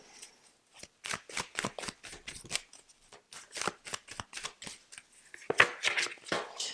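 A tarot deck shuffled by hand, in quick, crisp bursts of riffling and snapping cards, close and in an irregular rhythm with short pauses, with no talking.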